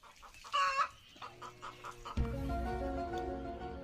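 A rooster clucks in a sharp, loud burst near the start, followed by softer scattered clucks over a steady background hum.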